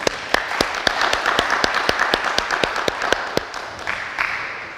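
Audience at a university conference debate applauds a panelist, steady rhythmic crisp claps close by with a full crowd behind, continuing without a break.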